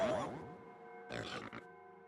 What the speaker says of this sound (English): Now poor Gloomer got turned into a pig.